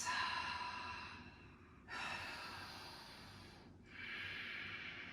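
Three slow, deep breaths during a twisting yoga flow, each a long airy exhale rising and fading in turn, close and steady with no talking.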